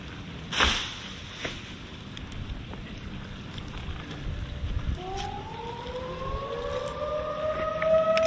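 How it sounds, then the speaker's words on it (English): A tornado warning siren sounds during a monthly test, its rising tone swelling in the distance and holding steady over steady wind and outdoor ambience, faint at first and growing louder toward the end. "Tornado sirens always go off here."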